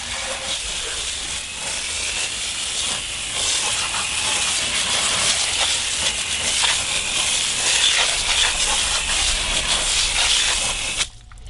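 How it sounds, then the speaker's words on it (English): A garden hose sprays water to rinse down a surface outdoors, a steady broad hiss of spray that holds strong for about eleven seconds before cutting off abruptly near the end. "Now we're going to hose it down."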